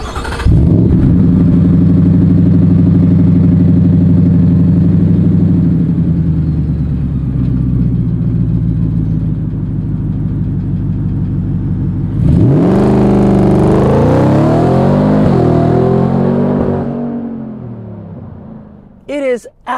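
A loud 2023 Ford Raptor R pickup engine revs and roars steadily in Baja mode, dips, then surges again with a rising rev before cutting off abruptly.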